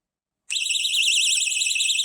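Personal alarm switching on abruptly after a silence, then a loud, piercing warbling siren that wavers rapidly and continuously until the end.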